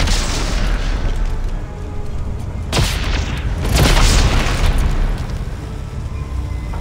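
A loud, booming explosion rumbles through the video game Dead Space 3, with heavy low-end blasts near the three- and four-second marks over a continuous roaring, crackling background.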